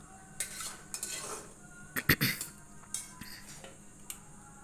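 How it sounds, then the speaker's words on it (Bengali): A utensil scrapes and knocks against a pan while taro paste is stirred until dry, soft irregular clinks and scrapes, quiet and close, with no talking. "তাই আমি এটাকে কিন্তু ভালো করে নেড়ে নিচ্ছি একদম পুরো শুকনো করে"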